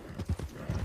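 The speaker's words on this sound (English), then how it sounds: "That's Zoe's horse." Horse hooves clip-clop in a Wild West roleplay video game, several quick muffled hoofbeats close by in a brief rhythmic run.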